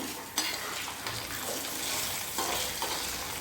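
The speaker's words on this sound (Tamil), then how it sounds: "ஸோ இது நல்லா ஃப்ரை ஆகட்டும்" Peanuts and chana dal fry in sesame oil for a puliyodharai mix, giving a steady quiet sizzle broken by a few clinks and scrapes as a spoon stirs the pan.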